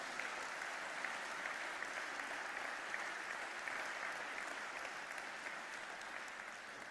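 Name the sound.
congregation applause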